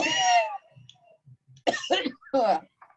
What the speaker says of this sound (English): So don't worry about me coughing.